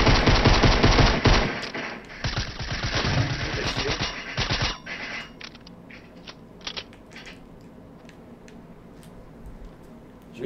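Rapid automatic gunfire in a Fortnite match rattles hard for several seconds with dense bursts, then thins to scattered shots and mechanical clatter over a low background.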